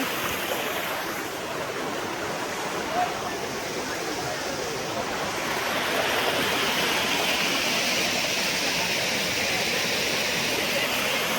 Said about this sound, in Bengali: আমরা এখন দেখো ঝর্ণার কতটা সামনে